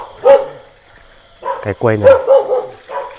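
A neighbour's dog barking at night in a rural Vietnamese village, a few short yips and barks under a man's close speech, with a steady insect-like whine behind.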